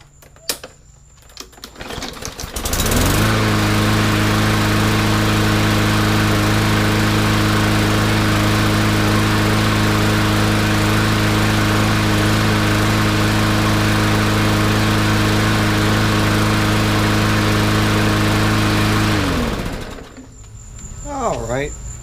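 A Yard Machines lawn mower's small engine starts after a brief fumble and runs at a steady, loud, close drone for about sixteen seconds, then cuts off abruptly.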